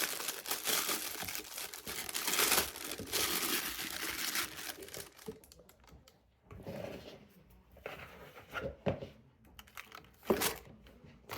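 A piping bag of icing for heart-shaped Valentine cupcakes is handled and set into a glass, giving soft crinkling plastic rustles and light knocks, close but quiet, with a brief voice in places.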